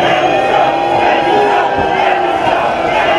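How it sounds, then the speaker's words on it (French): On the Promenade des Anglais in Nice, a packed crowd boos and shouts at Prime Minister Valls, a loud, sustained roar of hostile voices with sharp whistles and cries standing out. "À son arrivée sur la promenade des Anglais, le Premier ministre est conspué."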